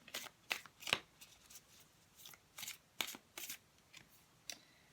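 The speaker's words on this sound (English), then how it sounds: "Let's just pull a card from the Animal Spirit deck." Close, crisp bursts of shuffling and drawing cards from a Wild Unknown Animal Spirit oracle deck, the quick riffles and slaps arriving in uneven clusters with short pauses between them and no talking.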